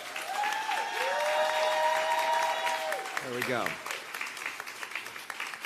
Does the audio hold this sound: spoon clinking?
no